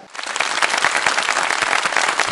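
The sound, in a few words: applause from an audience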